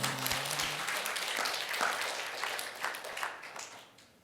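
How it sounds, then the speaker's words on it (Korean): A church congregation applauds during a worship and intercession service, a dense wash of clapping that stays steady and then slowly fades out. "박수 한번 쳐주세요."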